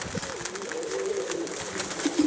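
Outzidika pigeons, a traditional breed from Karditsa, Greece, coo in a steady low rolling murmur that runs continuously through the moment, moderately close.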